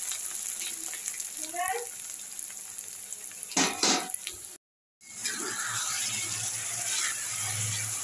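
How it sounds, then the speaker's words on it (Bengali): Potatoes fry in a pan for egg curry with a steady broadband sizzle and occasional stirring scrapes, briefly interrupted by a gap of silence, with a faint voice passing early on. "আলুগুলো দিয়ে এবার ডিমের তরকারিটা কষাচ্ছি।"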